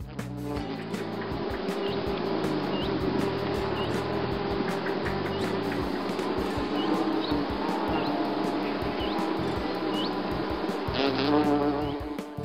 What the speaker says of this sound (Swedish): Geting.